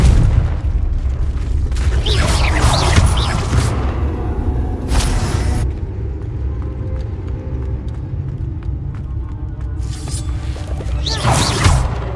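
A Confringo fire spell blasting in the Hogwarts Legacy video game, loud booming bursts with whooshing impacts at the start and again near the end over a steady low game rumble, no talking.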